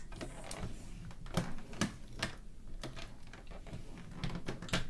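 Paper being scored for a homemade treat box, a series of repeated scraping strokes and soft taps at an uneven rhythm, close and without speech.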